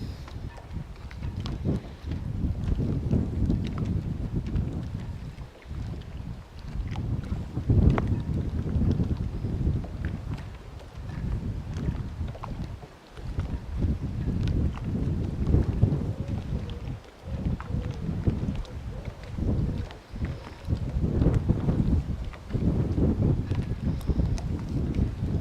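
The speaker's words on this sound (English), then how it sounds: "It's so windy." Strong wind buffets the microphone at a riverbank by the Hickling boat yards on the Norfolk Broads, roaring in loud low gusts that swell and drop throughout, with no voices.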